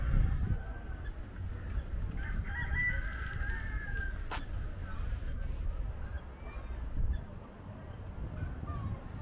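Chickens cluck and call repeatedly at Tajpur in West Bengal, faint and somewhat distant, over a dense low background rumble, with occasional brief calls scattered across the stretch.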